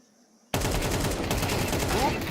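A sustained, loud barrage of automatic rifle fire erupts at A site during a professional Counter-Strike grand final match and continues without pause after a brief quiet opening.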